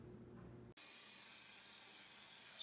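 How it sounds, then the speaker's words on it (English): 3M corner bead adhesive sprays along vinyl corner bead on a fireplace framework: after a short quiet moment, a steady close hiss starts abruptly and runs unbroken to the end. "Spray 3M corner bead adhesive along the length of the corner bead."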